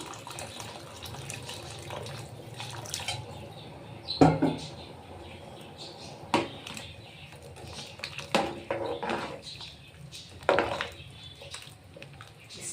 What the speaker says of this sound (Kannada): ಸ್ವಲ್ಪ ನೀರು ಸೇರಿಸ್ಕೊತೀನಿ ನಾನು